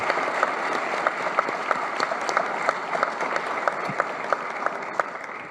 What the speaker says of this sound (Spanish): acompáñenme con un fuerte aplauso para las dos alcaldesas de Bogotá y Ciudad de México